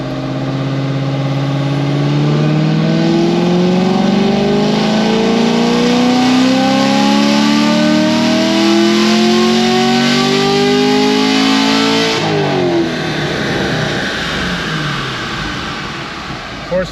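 An LT1 Camaro fitted with new heads, a cam, MSD ignition and running on E85 roars on a dyno, its engine climbing in one long, loud rev before cutting off sharply and winding down.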